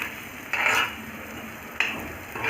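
Ground spicy tomato chutney is sautéed in a pan with a tempering of curry leaves and asafoetida. A few brief spoon scrapes sound close by over a faint sizzle, with no talking.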